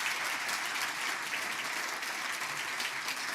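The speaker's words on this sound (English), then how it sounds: "can you give me a massive round of applause, please, for our events team?" Large keynote audience at an IT industry conference giving sustained applause for the events team, a dense, even wash of many clapping hands heard from a distance.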